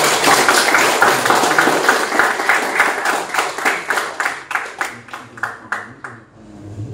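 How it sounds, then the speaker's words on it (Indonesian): A group claps loudly at first, then the applause thins into a few scattered, rhythmic claps before fading out. "boleh tepuk tangan untuk kita"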